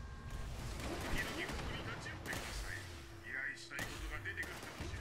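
Tesla rifle shots in Fallout 76 crack out several times in quick succession amid dense game noise, with broadband bursts and electric zaps layered over a steady mid-level background.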